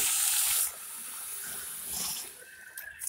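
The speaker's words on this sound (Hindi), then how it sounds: "अब हम इसमें ये डेढ़ कप पानी डालेंगे" Water pours from a cup onto sugar to start a syrup, a close splashing gush for under a second, then quieter trickles and brief splashes, with no talk.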